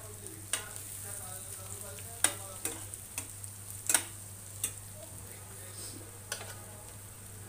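Green chillies are stirred into onions frying in a home kitchen pan, giving a soft continuous sizzle with scattered sharp clicks and taps of a spoon against the pan over a steady low hum.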